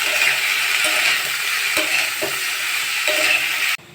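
Cauliflower fries in a pan with salt and a pinch of turmeric, a loud continuous sizzle with a few soft knocks of stirring, cutting off abruptly near the end.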